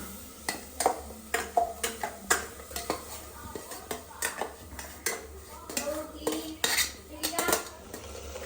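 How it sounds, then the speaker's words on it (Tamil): Ground onion, green chili, mint and coriander are sautéed in oil in a pan, with a spatula repeatedly clanking and scraping against the metal in an irregular rhythm and only a faint sizzle underneath. "அப்புறம் நம்ம அரைச்சி வச்சுருக்கோம் வெங்காயம் பச்சை மிளகாய் புதினா கொத்தமல்லியை வந்து எண்ணெயில் வதக்கிக்கணும்."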